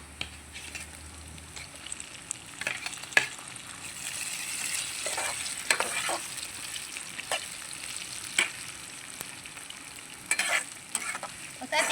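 Tomatoes and eggplant frying in a pan for a village-style curry, a steady sizzle broken by scraping stirs and spoon clatters, close and alone without talk.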